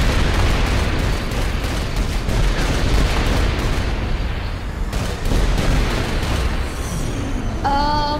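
Sustained gunfire and explosions in Saints Row 4, dense rapid shooting and booming blasts filling the whole stretch at high volume, with a brief lull before the barrage resumes.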